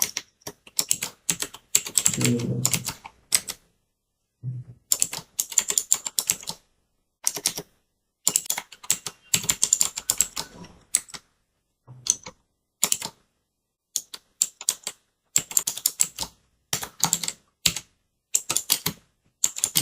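HTML code typed on a computer keyboard, heard as bursts of rapid, crisp key clicks separated by short silent pauses, close and fairly quiet, with no talking.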